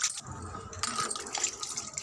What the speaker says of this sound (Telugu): నేను, మంచినీళ్ళతోనే కడుగుతున్నాను